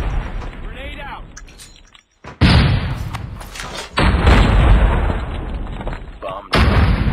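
In Call of Duty Mobile, a thrown grenade goes off in heavy, booming blasts that hit abruptly several times, each leaving a dense roaring rumble. The nearby blasts are mixed with game noise and some voice.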